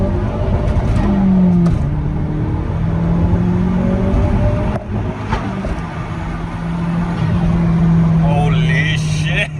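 A turbocharged Mazda car accelerates hard in second gear, engine note climbing in long rising sweeps, loud from inside the cabin, with a brief whoosh near the end.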